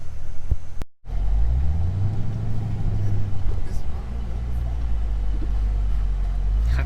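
A Chevrolet Camaro drives on the road, a steady low engine rumble and road drone heard from inside the car after a brief cutout, continuous and fairly loud throughout.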